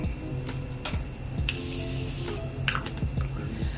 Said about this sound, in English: I'm gonna spray it with some Morphe spray.